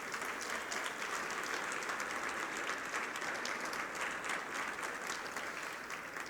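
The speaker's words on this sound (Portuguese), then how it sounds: "Você pode aplaudir a Jesus por isso." A church congregation applauds during a sermon, an even, continuous roll of clapping from a large room heard at some distance.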